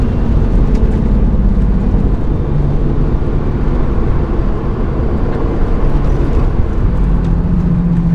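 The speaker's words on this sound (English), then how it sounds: "I can get into 6 here. Great, downshift twice." Subaru WRX Limited engine droning steadily and loudly from inside the car, with engine tones shifting in pitch as the driver drops through the gears.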